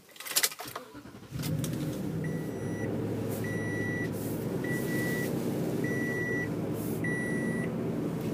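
A 2017 Toyota Tundra TRD Pro CrewMax pickup cranks and fires up, settling into a steady, rumbling idle close by, while an evenly spaced warning chime beeps repeatedly over it.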